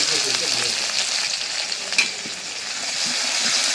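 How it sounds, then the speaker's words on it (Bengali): Onion and crushed garlic fry in hot oil with dried chillies and bay leaves, a continuous close sizzle with faint stirring scrapes underneath. "পেঁয়াজ একটু কড়া করে ভেজে নিলাম"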